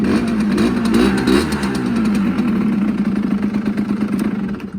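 A 50cc motorcycle engine in neutral is revved from idle, giving a loud, close, buzzing putter that swells and pulses unevenly before easing back toward idle.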